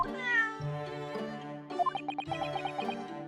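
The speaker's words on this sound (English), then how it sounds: "isn't this a Saki's cat?" A cat in the video game The Great Ace Attorney gives a short run of meows over steady background game music, fairly quiet overall.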